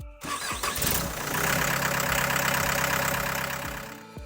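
A Cardinal Mule 9069 shed mover with a 69-horsepower diesel engine cranks with a few quick chugs, then catches and settles into a loud, steady, close idle with a rhythmic knock.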